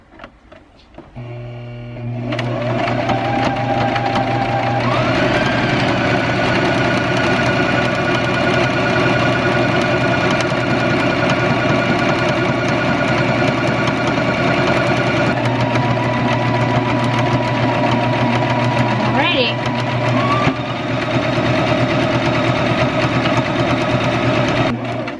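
A sewing machine runs steadily and close up, sewing a zigzag stitch on a homemade baby bib, a continuous loud mechanical whir with rhythmic needle clatter that holds for over twenty seconds with slight shifts in pitch.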